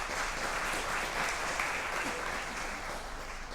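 Steady audience applause for a young woman guest on a Punjabi television chat show, a short, even run of clapping from a studio crowd at moderate volume.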